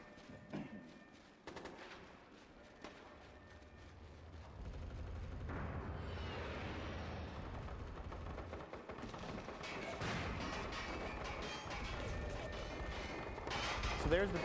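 Video game squad assault on an enemy bunker, with near and distant gunfire, automatic bursts and heavy explosions building into a dense, continuous battle din that grows louder toward the end, with voices mixed in.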